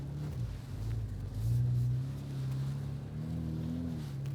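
A lifted Jeep crawls off-road in second gear, four-low, its engine a steady low rumble that swells and eases as the suspension works over terrain, close and continuous with no talking.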